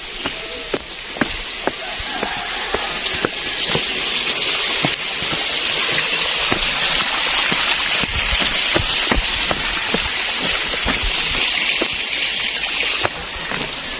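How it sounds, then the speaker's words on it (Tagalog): Steady rain pours across the whole stretch on a trip to a sunflower farm in Baguio, a dense hiss with scattered sharp drops and knocks landing close by. No one speaks. "Umuulan guys, hindi siya nakakatuwa."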